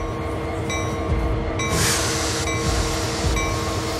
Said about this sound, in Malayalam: ട്രെയിൻ പോണു.